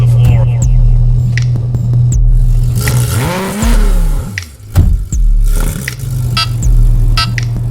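A car accelerating hard at full throttle, its engine roaring loud and close, rising and falling in pitch through several surges over a steady throbbing drone.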